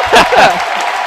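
Basketball arena crowd erupts in loud cheering at Indiana as Michigan visits, a roaring swell of voices with speech-like shouts mixed in over about a second.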